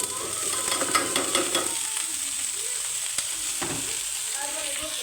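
Spice paste and vegetable bhaji fry in a pan with a close, steady sizzle, punctuated by spatula scrapes and stirring taps early on, and no voices heard.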